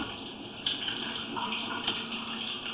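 Water draining through a settled sewer pipe at the joint where concrete meets PVC, a steady, moderately faint trickling rush that runs on without a break.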